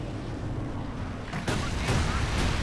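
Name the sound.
Walking Stuka incendiary rocket barrage in the video game Company of Heroes 2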